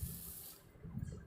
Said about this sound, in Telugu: దీన్ని కూడా 2-3 టైమ్స్ వాష్ చేసుకొని